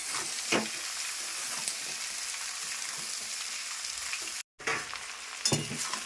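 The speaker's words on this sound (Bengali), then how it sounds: "কাঁঠালটা দিয়ে একটু কষাবো" Jackfruit pieces sizzle and fry in a pan for a curry with prawns, with a steady broadband hiss and occasional scraping stirs, briefly cut off near the end before the sizzling resumes.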